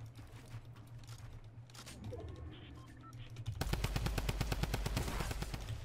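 Fortnite gunfire, at first sparse and mixed with game sounds, then a rapid automatic burst of shots that runs loud to the end.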